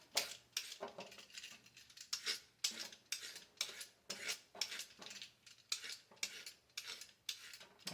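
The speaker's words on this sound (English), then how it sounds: "I am going to peel a couple of carrots." Carrots are peeled with a vegetable peeler in a home kitchen, giving a quiet, regular series of scraping strokes, roughly two per second, close up and with no talking.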